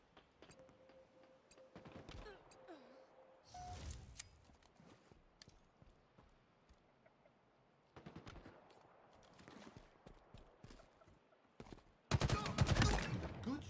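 Automatic weapon fire in the game Halo Infinite comes in several separate bursts, sharp rapid rattles with quieter stretches and scattered thuds in between, ending in a louder, denser volley at the close.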